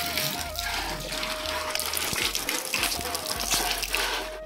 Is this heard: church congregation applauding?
no